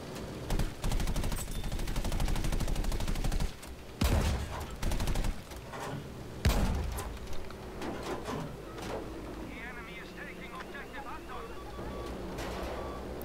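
Large front cannon of a bomber plane firing in Battlefield V, heavy rapid bursts of booming gunfire with engine roar and clattering game effects, loud and dense throughout, with a player talking over it.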